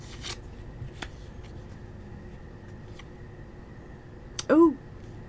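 Tarot cards are shuffled in a quiet room, giving a few brief, soft papery riffles and snaps spread across the stretch. A short voiced sound comes near the end.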